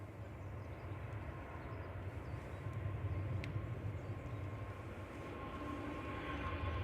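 A Singapore Airlines jet, flight 51, departs Manchester Airport with a steady, distant roar of engines that swells slightly, heard faint and unbroken with no talking.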